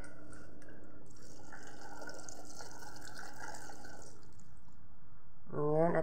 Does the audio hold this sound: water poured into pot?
yes